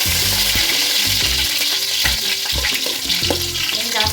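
Green chillies drop into hot oil and sizzle loudly, a dense continuous crackling hiss that fills the whole stretch, close and with no talking.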